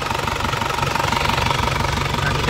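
A 2000 Isuzu Panther diesel car engine idles steadily and loudly up close, with a continuous rough knocking rumble.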